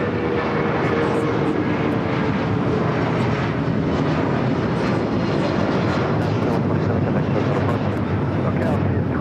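Airliner taking off from runway 25 right at LAX, a continuous loud engine roar with wind-like rumble filling the whole stretch, and radio voices talking over it.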